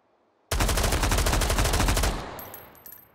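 A rifle with a 20-round magazine fires in a VR shooter, a loud, close, rapid automatic burst lasting about a second and a half that stops abruptly, leaving a fading echo and faint metallic clinks.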